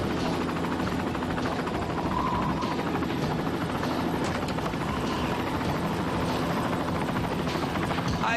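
Helicopter flying overhead, a steady loud rotor and engine roar filling the whole stretch with constant chopping texture and no break.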